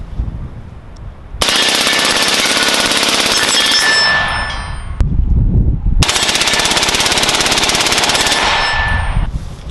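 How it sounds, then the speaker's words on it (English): An Alamo-15 rifle with a hot suppressor can rapid-fires a 40-round drum: two long, loud, dense bursts of fast shots, each a few seconds long, with a short pause between them. "go ahead and run the drum through it"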